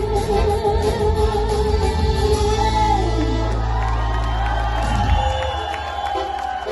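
A crowd cheers, whoops and shouts at a Tatar pop concert after a song, loud and continuous, with a low musical hum beneath and voices mixed into the din.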